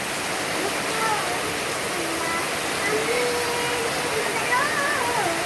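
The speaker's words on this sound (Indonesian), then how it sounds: "Hujannya mantap, deras." Heavy rain pours down in a dense, steady hiss outdoors, with a small bird chirping faintly now and then, and a voice sounding under the downpour.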